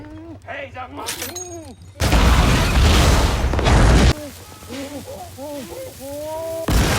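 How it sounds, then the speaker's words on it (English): A sudden loud blast erupts into a roaring, crackling burst lasting a couple of seconds, framed before and after by shouting voices. "The explosion tears through the front line, injuring several guards."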